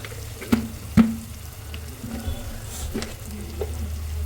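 Garlic and onion sautéing in a pan for an Angamaly-style pork and plantain dish, a soft low sizzle under a steady background hum, with two sharp utensil knocks near the start and a few lighter clinks later.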